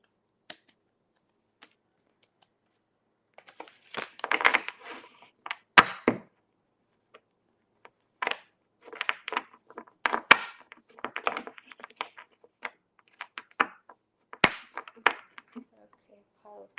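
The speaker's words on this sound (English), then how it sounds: "while I shuffle these cards really quick" Tarot cards being shuffled by hand come as scattered bursts of crisp riffling and soft slaps, close and fairly quiet, with gaps of silence between the clusters.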